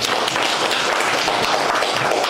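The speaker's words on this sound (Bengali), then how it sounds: "তার জন্য একটু করতালি" An audience claps at a live anniversary event for a weekly show: a dense, steady burst of applause from many hands, loud and continuous for the whole stretch, with no talking over it.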